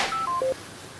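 A telephone being dialed, a quick sequence of three distinct beeping keypad tones stepping down in pitch, clear and close, followed by quiet.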